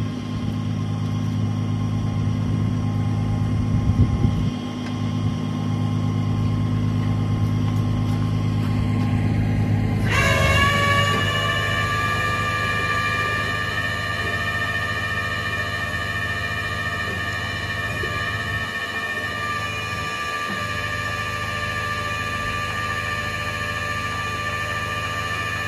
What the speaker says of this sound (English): My truck decided now is an appropriate time to run a regen, So sorry for the loud noise.